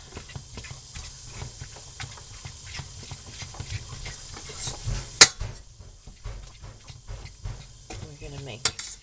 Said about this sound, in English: So first we're just going to brown our meat.